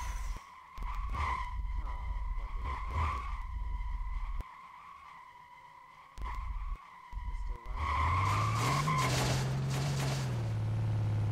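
Car drifting in the SLRR video game, with engine drone and screeching tire skids that cut in and out, then a louder sustained skid with rising engine pitch near the end, while a voice talks faintly in the background.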